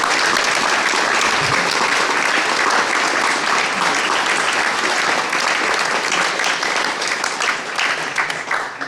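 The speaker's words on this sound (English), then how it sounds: "please join me in a big round of applause" Big round of applause from an evening panel discussion audience, loud and continuous dense clapping filling the room, tapering slightly toward the end.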